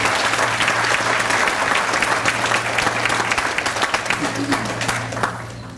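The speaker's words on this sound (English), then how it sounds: "let's give ourselves a round of applause" Sustained applause from a large crowd fills the whole stretch, steady and dense, with scattered cheers and voices mixed in before it tapers slightly at the end.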